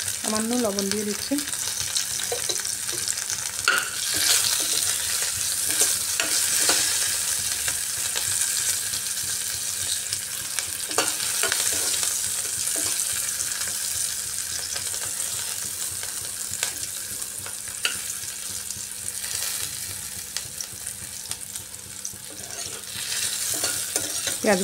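Salted onion pieces frying in oil left from fish pakoras, a continuous close sizzle with scraping stirs and a faint clink, no voices.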